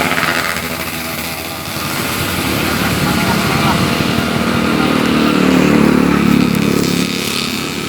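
A new fire-rescue spraying machine runs during firefighter training, its small engine giving a loud, buzzing drone that swells and steadies over several seconds as the throttle is pulled.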